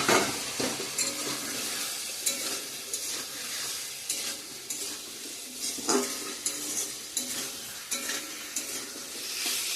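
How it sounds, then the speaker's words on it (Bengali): Fried potatoes and pointed gourd sizzle in hot oil with spices, stirred steadily with a spatula scraping the pan in repeated strokes, close and continuous, no voices. "তো ভালো করে কষিয়ে নিই মশলার সঙ্গে"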